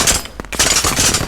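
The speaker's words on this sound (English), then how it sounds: "this is a 30mm cannon this time" Bursts of 30mm cannon fire from an armored vehicle in a combat game, loud close rapid thuds in two quick volleys separated by a brief gap.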